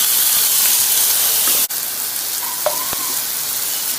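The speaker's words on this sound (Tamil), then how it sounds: "ஸோ இப்போ நம்ம சாப் பண்ணி வச்சுருக்க ஆனியன்ஸை ஆட் பண்ணிடலாம்." Chopped onions fry in hot oil for a Spanish chicken dish with a loud, continuous close sizzle. A sharp click and a few faint stirring knocks sound over the steady hiss.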